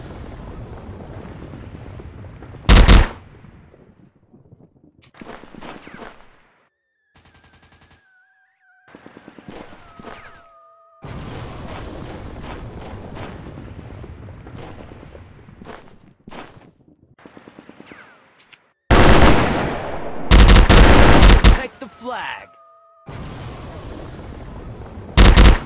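Minigun and rapid gunfire in the Modern Commando mobile shooter game, loud bursts of automatic fire broken by short pauses, sharp blasts and tonal game sound effects.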